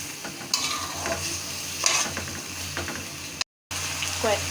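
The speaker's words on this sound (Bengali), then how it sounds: "মুগ ডালটা দিয়ে একটু কষিয়ে নেব।" Mung dal and chicken sautéing in a pan, with steady scraping and stirring over a soft sizzle, one brief dropout near the end.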